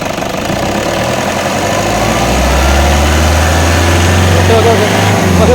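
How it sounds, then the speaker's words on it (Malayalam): A 2011 Toyota Innova's engine catches and revs up into a loud, deep rumble at close range. "ഇനി എഞ്ചിൻ റൂം ഒന്ന് കാണാം കേട്ടോ. ഒന്ന് സ്റ്റാർട്ടാക്കട്ടെ."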